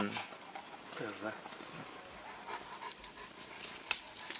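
A young male Central Asian Shepherd dog pants softly in rhythmic breaths at a kennel in Japan, with people talking nearby and faint bird calls in the background.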